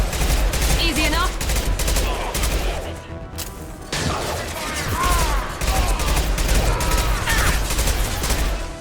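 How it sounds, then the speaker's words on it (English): Rapid bursts of heavy gunfire and a concussion shot blast in the Mass Effect 2 video game, loud and continuous with a brief lull midway, over rumbling combat noise. "Firing concussion shot!"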